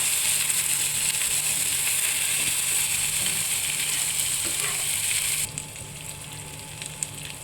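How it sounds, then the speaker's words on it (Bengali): Turmeric, cumin and Kashmiri chilli powder fry hard in hot oil, a loud, steady, close sizzle that drops to a softer crackle near the end. "মশলাটা আমি একটু কষে নেবো ভালো করে।"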